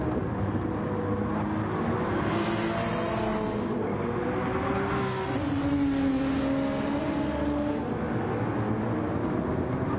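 Several race cars roar steadily around Interlagos in a racing video game, engines droning loudly and continuously with rising and falling pitch as they pass, no talk over it.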